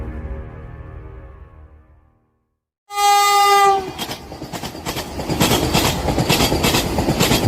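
A Vande Bharat semi-high-speed train on a 180 km/h speed test sounds one loud, sustained horn blast. It then roars past close by with a rushing, rhythmic clatter of wheels that grows louder to the end.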